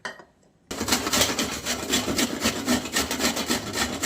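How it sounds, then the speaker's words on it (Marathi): Fresh coconut grated by hand for laddoos, a steady rhythmic rasping and scraping that starts after a brief quiet moment and repeats in quick strokes, close and fairly loud. "आपण खिसून घेऊ सगळं खोबरं"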